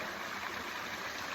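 Flowing river water rushing as a steady hiss, faint and continuous throughout the brief stretch, with no voices.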